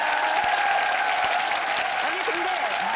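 A studio audience of retired navy officers claps steadily on a TV variety show, and brief voices and laughter sound faintly under the continuous applause.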